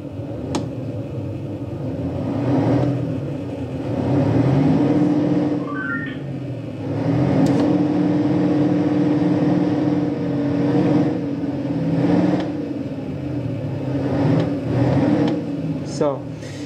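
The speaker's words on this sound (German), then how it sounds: "das werde ich euch jetzt einmal demonstrieren, indem ich hier auf das Gas drauf titsche" A city bus engine in the OMSI 2 simulator revving repeatedly as the throttle is tapped, rising and falling drones in several swells, with someone talking throughout.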